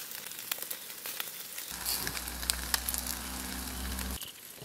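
A fish brushed with oil grills over a charcoal fire outdoors, crackling and sizzling steadily at close range, with a low hum joining partway through before it cuts off near the end.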